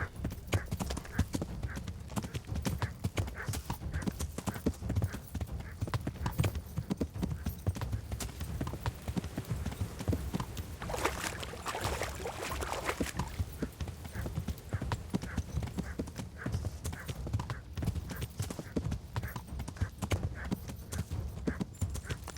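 Steady clip-clop of hooves at a quick trot runs throughout, with a brief horse whinny midway over a busy background in the game Kingdom Come: Deliverance.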